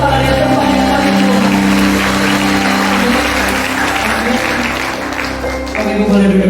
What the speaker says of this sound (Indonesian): Boleh sekali lagi kita beri tepuk tangan yang terbanyak kali itu